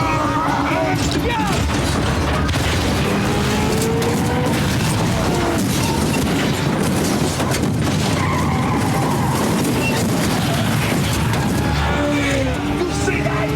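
Car chase from the film Bad Boys 2, with tires skidding and engines roaring amid loud, continuous action-movie effects and crashes, dense and sustained throughout.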